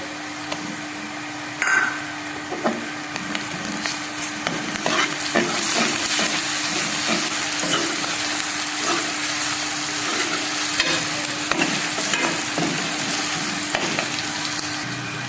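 Crushed garlic and onions fry in a pan, giving a steady, continuous sizzle broken by frequent scraping stirs and clinks up close, with no voices.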